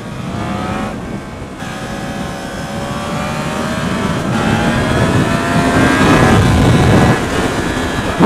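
A Yamaha MT-10 motorcycle accelerating on a road in brutal riding mode, its engine note rising loud and close through the gears over steady wind rush.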